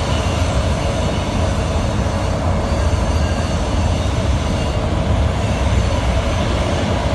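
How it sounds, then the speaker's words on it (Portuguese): A rail leveling machine works on train tracks with a loud, steady broadband mechanical roar and rumble that holds constant throughout, heavy low-end drone with grinding texture and no pauses. "Nivelador dos trilhos, chegaram aqui, está nivelando os trilhos."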